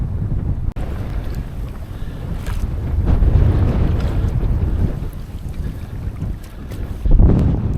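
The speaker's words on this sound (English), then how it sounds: "It's really windy now" Strong wind roars across the microphone beside a trout fishing lake in a steady, heavy rumble, buffeting harder in gusts near the end, with no voices.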